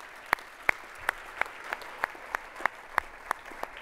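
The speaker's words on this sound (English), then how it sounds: "Ken and Rom, please give them a great big round of applause" Audience applause at a conference session: a crowd clapping steadily with evenly spaced, distinct sharp claps, moderately distant and fairly quiet, no talk over it.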